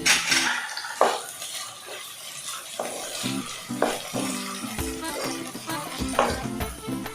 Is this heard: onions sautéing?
yes